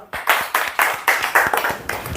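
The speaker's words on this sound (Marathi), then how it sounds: "याच्या टाळ्या वाजवा" A group of schoolchildren claps for a classmate in a classroom, about eight loud, rhythmic, slightly ragged claps in quick succession, close by and without talking.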